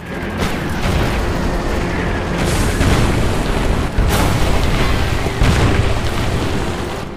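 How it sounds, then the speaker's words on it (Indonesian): Artillery shelling of German troops and tanks as a sound effect: continuous heavy rumbling with repeated booming impacts and bursts, loud and dense throughout with no talk. "artileri dari markas pun langsung menghujani para tentara Jerman beserta"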